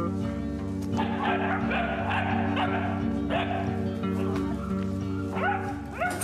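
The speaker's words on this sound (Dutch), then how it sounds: "Hier zijn de 7 puppies." Spanish Mastiff puppies, seven of them penned beside sheep, yip and bark in short overlapping calls over a steady low background hum.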